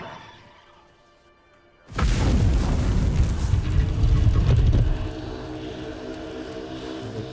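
A Confringo fire-spell blast from Hogwarts Legacy erupts suddenly after a quiet lull, a loud roaring explosion that holds for about three seconds and then settles into a lower rumbling tail.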